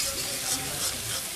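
Spice paste (masala) sautéed in oil for a family winter picnic meal gives off a steady, close sizzling hiss with a faint bubbling crackle and no voices.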